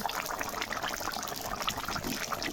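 Water pours into a rohu fish curry cooking in a pan, a soft, continuous splashing gush heard faintly and alone for a couple of seconds.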